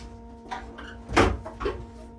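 A drawer is opened and pushed shut, with a soft slide followed by a louder knock and one more bump, all close by in a quiet room with no talking.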